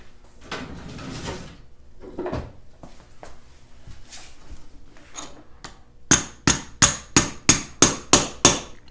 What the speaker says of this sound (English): let me get a little hammer and see if maybe we can pull this out